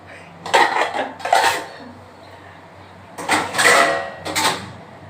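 Dishes, pots and utensils clatter and clink loudly during washing up in a home kitchen, in two clusters of close, busy rattling separated by a short lull.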